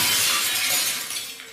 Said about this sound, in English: As the hammer was about to crash into the glass